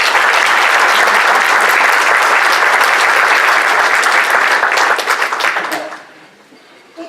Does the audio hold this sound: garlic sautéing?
no